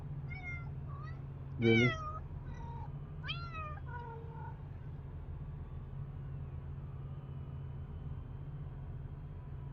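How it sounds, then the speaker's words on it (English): A house cat meows several times, close and fairly loud, with a strong drawn-out cry followed by a few shorter chirping meows over a steady low hum. One person speaks briefly. "your cat is about as talkative as my cat"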